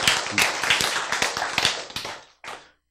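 An audience at a church talk claps hands in a brisk, rhythmic burst of sharp slaps, loud and close, before fading out near the end.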